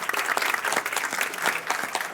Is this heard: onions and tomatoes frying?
no